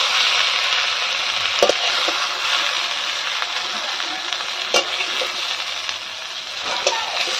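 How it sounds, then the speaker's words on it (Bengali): Two bay leaves and cumin seeds sizzle in hot oil in a wok as a tempering. A steady, bright frying hiss runs throughout, broken by a few sharp crackles and pops. "আমি কড়াইতে তেল দিয়ে দিয়েছি, এবার আমি এতে ফোড়ন দিয়ে দিচ্ছি তেজপাতা গোটা দুটো আর জিরে।"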